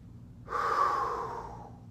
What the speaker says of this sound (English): you take a deep breath in.